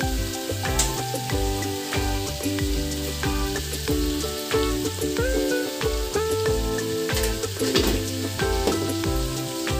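Chicken perattu simmering on a low flame sizzles steadily and close, with repeated scraping and stirring strokes against the pan throughout and no voices.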